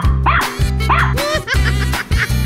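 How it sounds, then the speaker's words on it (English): A dog barking in a run of animal sounds, with three loud, close yipping barks in a quick, uneven rhythm over a low, steady backing tone. "Dog."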